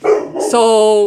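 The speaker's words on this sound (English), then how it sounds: "sorry, that's my dog" A pet dog gives a single close, loud bark that stretches into a tonal whine, right after a brief spoken word.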